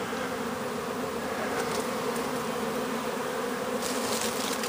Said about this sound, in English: I don't know if you can hear all the buzzing. I'm standing right inside a pretty good sized swarm.